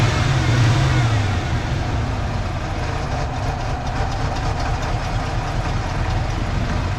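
A rough engine of a once-abandoned 1992 Ford F-150 pickup idles steadily with a low rumbling chug, close and continuous, a brief deeper hum at the start.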